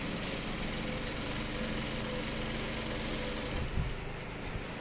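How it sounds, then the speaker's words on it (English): A sewing machine top stitches along the sides of a trouser, running as a continuous even mechanical whir at moderate volume with no talking, a brief bump near the end. "So you top stitch all through."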